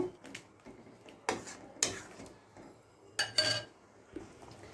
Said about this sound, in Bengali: ভাজা মশলা দিয়ে একটু নেড়ে নেব।